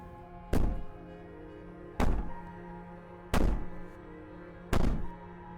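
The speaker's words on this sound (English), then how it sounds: "Maybe the banging and wailing will stop if you just don't pay attention to it." Four heavy, evenly spaced thuds of a door being banged in the video game Slay the Princess, each a loud, booming knock with a short ringing decay over a quiet, humming background.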